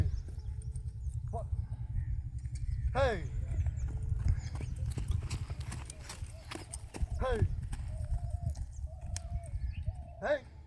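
A horse moves around during a training session, with steady clip-clop of hooves and a few short whinnying calls, while people talk over it and a constant low rumble fills the background.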